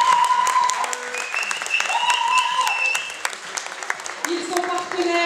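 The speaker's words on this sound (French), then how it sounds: "on peut les applaudir" An audience claps at a fashion show, with dense, steady applause running throughout while voices are heard over it.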